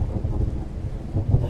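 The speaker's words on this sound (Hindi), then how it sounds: "देख जय, बारिश थोड़ी कम हो रही है।" Rain falls steadily with low thunder rumbling underneath, and a heavier roll of thunder swells near the end. The storm is moderately loud, with no voices.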